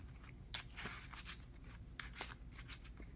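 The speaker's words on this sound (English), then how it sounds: "So what I'm going to do next is shuffle all these up and do a test hand or 2" A deck of trading cards is riffled and shuffled by hand, giving repeated crisp bursts of flicking and slapping close up, quiet and with no talk.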